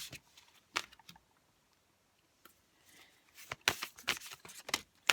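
Oracle cards being shuffled and pulled for a three-card tarot reading, heard as crisp papery riffles and snaps, a few isolated flicks early on, then a denser burst of shuffling at the end, close and moderately loud.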